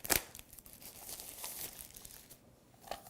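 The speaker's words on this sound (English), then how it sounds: "Let's go ahead and unwrap this." Plastic packaging around a Wyze Cam Pan security camera is torn and crinkled open in a few quick bursts of close, crisp rustling.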